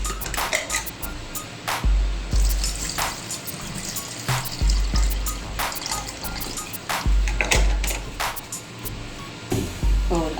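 Water is poured into a jug of cherries, black salt and ice cubes for cherry juice, a close, continuous splashing and gurgling stream with bursts and brief pauses, dominant throughout.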